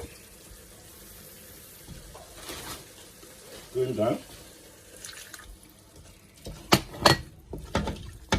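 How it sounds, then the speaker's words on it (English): Water poured into a cooking pot of fish vegetable stew, a few faint, brief splashing bursts heard close by under a person talking. "I'm going to add a little bit of water into it."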